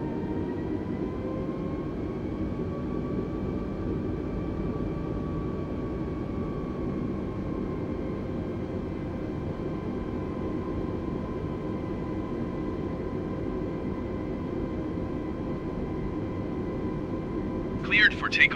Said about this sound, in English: cleared for takeoff runway 23 right.